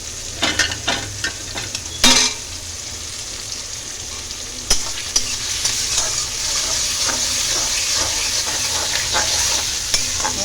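Turmeric and ginger with spices sautéing in a pan, a steady loud sizzle broken by sharp scrapes and knocks of stirring, closer and busier at the start, no voices.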